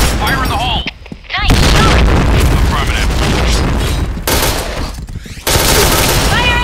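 Grenade blasts and rapid gunfire from a video game at a PBIQ Depok open tournament come loud and dense in overlapping bursts, with two short near-silent gaps between the barrages.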